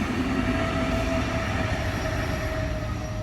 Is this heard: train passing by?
yes